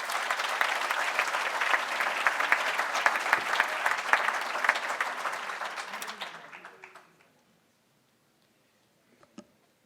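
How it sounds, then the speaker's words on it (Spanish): Audience applause at a national journalism awards ceremony, a loud, dense round of clapping that fills the hall for about seven seconds, then fades out abruptly into near silence with a faint knock near the end. "un aplauso, por favor."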